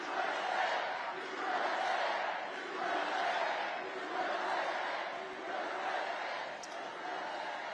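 A large crowd at a Donald Trump 78th birthday rally in Florida cheers and chants in rolling, swelling waves, a dense roar of many voices that rises and falls steadily throughout.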